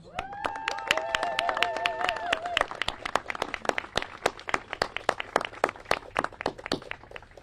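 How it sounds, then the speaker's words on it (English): Audience applause for youth climate activists at a political event: sparse, distinct handclaps build into a steady round of clapping, with a sustained tonal sound fading early on and no talk over it. "We elected officials want to give all of you a round of applause."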